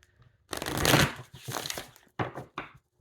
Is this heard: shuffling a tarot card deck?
yes